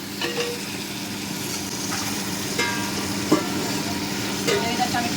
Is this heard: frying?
yes